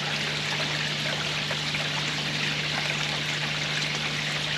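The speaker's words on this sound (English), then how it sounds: "Oh, we've got our sound of water, haven't we?" Water flows steadily down a new chrome Bakki shower filter into a koi pond, a constant close rushing trickle with no pauses and no voices.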